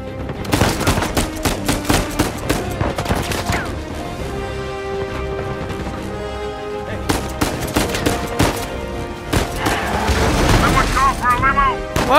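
Gunfire in the action game Uncharted 4, with loud repeated gunshots and rapid bursts cracking throughout, mixed with heavier booms and impacts, a player talking over the fighting.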